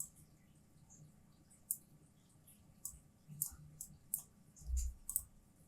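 A computer mouse clicks sporadically and faintly, a handful of single clicks spaced apart while trees are painted onto Unity terrain, with soft low handling noise in between.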